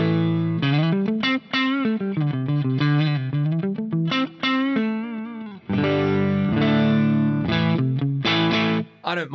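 Clean electric guitar through an ODS 100 clean amp model and EV12 cab simulation with hall reverb plays a melodic phrase with chords and single notes, bright and sustained, heard alone.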